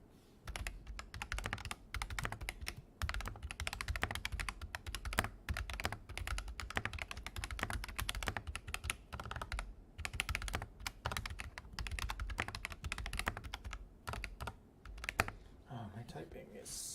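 Rapid, continuous clacking of a mechanical keyboard with MSA-profile keycaps being typed on, close and fairly loud, with brief pauses between bursts of keystrokes.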